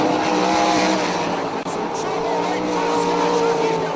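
Sprint cars race around the dirt oval at Ohsweken Speedway, a loud, continuous roar of engines that stays steady throughout, with a commentator talking over it.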